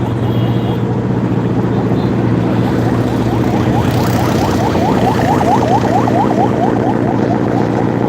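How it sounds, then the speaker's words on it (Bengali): A large sand-carrying ship on a river passes close by, its engine a loud, steady low drone with a faint rhythmic pulsing that holds throughout. "বড় বালুর জাহাজ যাইতেছে"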